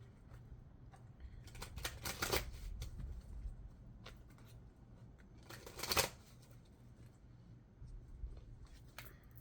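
Osho Zen Tarot cards are shuffled close by in a quiet room, with two short bursts of riffling flutter and a lighter flick near the end, separated by soft handling rustle.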